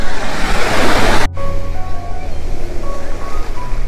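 Ocean surf crashes loudly on a beach for just over a second, then cuts off abruptly and gives way to a softer, steady wash of waves with faint tonal sounds over it.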